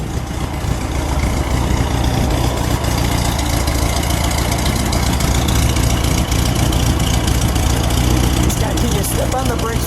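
A 1972 Porsche 914 with 18K original miles idles at a steady, loud, buzzy pitch, running continuously for ten seconds, with a brief voice heard faintly near the end.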